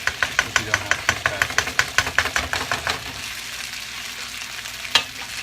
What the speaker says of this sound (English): so the rice is frying